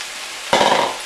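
Romano tomatoes dropped into a pot of venison chili, Texas style, setting off a sudden loud sizzle that fades slightly over a second.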